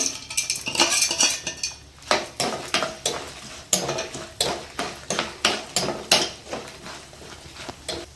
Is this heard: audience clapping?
no